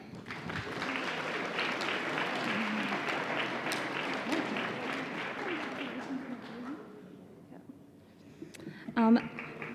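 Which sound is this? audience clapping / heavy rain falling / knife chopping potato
audience clapping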